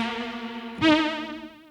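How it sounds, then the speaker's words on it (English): Reverb on a GForce Oberheim SEM synth: a sustained buzzy tone, then a fresh note hits and blooms into a thick, lush wash that slowly decays. "And that is an interesting reverb."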